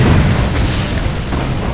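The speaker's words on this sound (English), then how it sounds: "Both tanks trying to shoot at each other." Siege tanks fire at each other in a StarCraft match, a deep, booming blast that rumbles on at close range without voices over it.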